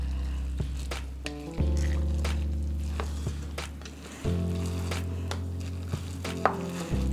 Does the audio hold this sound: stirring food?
yes